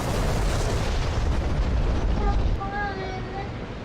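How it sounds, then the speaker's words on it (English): Bombs dropped from an aircraft exploding in the DCS flight simulator, a dense rumbling roar of blasts that swells and then fades as engine tones rise above it. "Bombs away."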